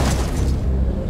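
In a World War II shooter game, a flashbang grenade goes off as a loud, dense blast. A deep low boom fills the whole second and fades only slightly at the end.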